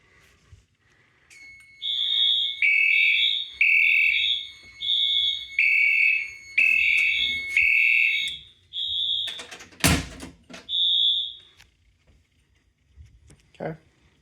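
A fire alarm sounds during a test of an Edwards 270 SPO pull station, a loud two-tone electronic horn pulsing in repeated bursts, then a sharp clunk, a final burst and silence, with talk nearby.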